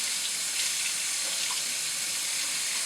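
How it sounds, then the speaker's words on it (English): Tap water runs in a steady, close hiss through a small strainer as basmati rice is rinsed one cup at a time, continuous with no talk. "it is a good idea to rinse your rice, so I'm just going to use a little strainer"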